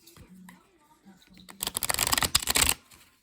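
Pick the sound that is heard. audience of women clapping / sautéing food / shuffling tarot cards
shuffling tarot cards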